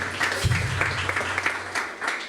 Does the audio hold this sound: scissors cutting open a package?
no